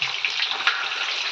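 Pieces of masala-coated fish fry in hot oil, giving a steady, close hiss and crackle with small pops throughout, and no one talking.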